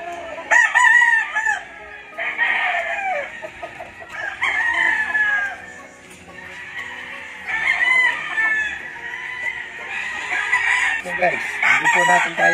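Several roosters at a poultry farm crow repeatedly with layered, overlapping calls while hens cluck in between, loud and close throughout with little pause.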